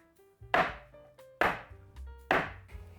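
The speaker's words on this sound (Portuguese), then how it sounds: "Vou bater para retirar o ar." A lemon bundt cake mold is tapped down three times at an even pace to knock out air bubbles, each tap a sharp, close knock with a brief ringing decay, and quiet between the taps.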